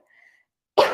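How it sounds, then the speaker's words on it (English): A single sudden, loud sneeze-like burst bursts out near the end of a quiet second, after a faint soft noise, close to the microphone. "I'm about to sneeze"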